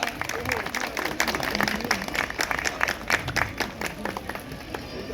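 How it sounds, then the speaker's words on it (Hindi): An audience gives sustained applause to welcome BJP leader Satya Pal Jain at a gathering in Shastri Market, with dense, steady clapping filling the room throughout. "तालियों से स्वागत करें जैन साहब का।"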